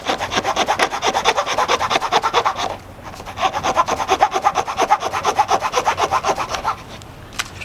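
A hand saw cuts an angled line across the end of a wooden piece in steady rapid back-and-forth strokes, close and loud, with a brief pause partway before the rhythmic sawing resumes.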